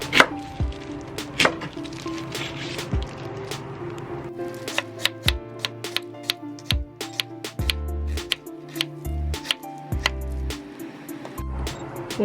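Knife chopping a large halved onion on a board while preparing spicy seafood soup, with a run of sharp, close taps, some quick and clustered, others spaced out, and a faint voice now and then.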